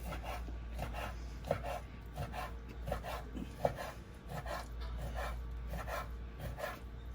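Beef being cubed with a knife for carne asada: faint, quiet repeated cutting taps and scrapes on a board at an irregular rhythm, with no voices.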